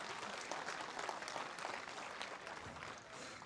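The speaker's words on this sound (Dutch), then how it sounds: "Applaus, mensen." Audience applause at a Frisian village contest show, a dense, steady wash of clapping that fills the whole stretch at an even level with no voices over it.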